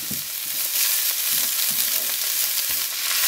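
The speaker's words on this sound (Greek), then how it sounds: "έχουν μαλακώσει λιγάκι οι πιπεριές και τα καρότα, θα προσθέσουμε το σκόρδο. Θα το αφήσουμε να τσιγαριστεί για ένα λεπτό." Garlic sizzles in a frying pan with softened peppers and carrots, a close, continuous hiss with a few soft stirring knocks, and no talking.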